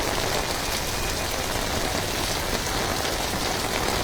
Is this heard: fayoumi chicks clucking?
no